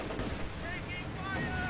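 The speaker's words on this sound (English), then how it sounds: "Incendiary mortar on the field gun." Incendiary mortar fire and gunfire in a war strategy game, a dense continuous barrage of booms and shots with rising whistling tones, loud and close throughout.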